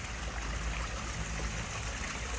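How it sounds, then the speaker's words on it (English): A garden waterfall splashes in a steady, continuous wash of falling water, close and unbroken, with no voices. "And that's the reason why I have this waterfall,"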